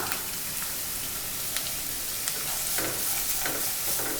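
Carrots and beans stir-frying for vegetable fried rice, a steady close sizzle with scraping spatula strokes across the pan, alone without talk.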